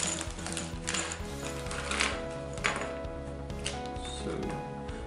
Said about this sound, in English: So first I put in the four main screws